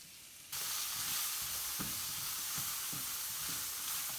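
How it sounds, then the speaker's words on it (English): Food for chicken and shrimp fajitas sizzles steadily in a hot pan, a dense continuous frying hiss that starts abruptly and stays loud, with faint scraping stir sounds now and then. "I'm basically just sauteing it so they're able to dress their tacos with it"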